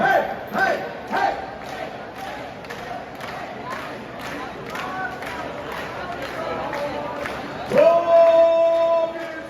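A party crowd at Playa de Palma, Mallorca claps rhythmically and cheers, loud and energetic, with a burst of shouting near the end and voices mixed throughout.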